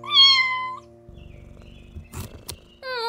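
A pet cat gives a loud, drawn-out meow close to the microphone, followed by soft rustling and shuffling sounds as it moves around inside an empty cardboard box, and then starts another meow.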